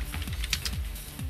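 A command is typed on a computer keyboard for a Raspberry Pi touch screen setup, giving a quick run of light, close key clicks in a steady rhythm with no talking.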